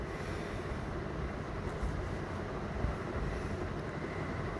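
Steady low rumble and rattle of a moving train carriage, constant throughout with slight bumps, no voices.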